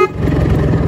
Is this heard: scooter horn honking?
yes